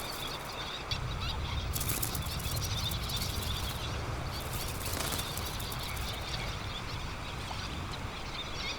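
Little terns fight on a sandy island breeding colony, wings flapping in rapid, continuous rustling bursts with faint chirps, close and fairly loud throughout.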